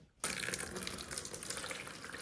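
Tap water gushes over glass jars being prepared for pickling cucumbers, starting abruptly and then running in a steady, close splashing stream.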